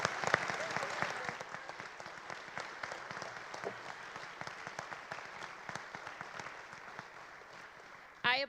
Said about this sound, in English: Please join me in another round of congratulatory applause for our scholarship